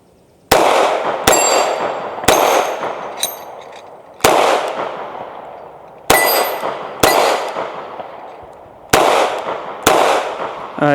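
A Hi-Point C9 pistol firing Sterling steel case ammunition, about ten sharp, loud reports at an irregular pace, each ringing out and decaying before the next, with faint metallic clinks between shots.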